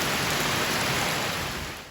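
Steady, dense rain pours down during a thunderstorm near a trail shelter and privy on the Appalachian Trail, a loud continuous hiss that fills the clip and eases off only slightly at the end.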